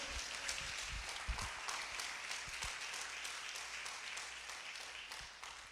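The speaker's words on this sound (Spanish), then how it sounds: "Dale fuerte el aplauso a Él" Church congregation applauding, a steady dense patter of many hands at moderate distance that tapers slightly toward the end, heard alone without talk.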